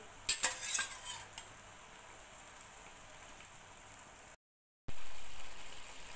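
Fried chana dal fritters go into curry boiling hard on a full gas flame: a few metallic clinks and splashes at the start, then a steady, soft bubbling hiss that cuts out briefly.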